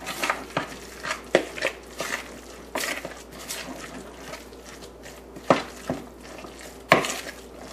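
Tuna cake mixture with Dijon mustard being given a quick stir in a bowl, with a series of distinct utensil clinks and scrapes against the dish at irregular intervals and no talking.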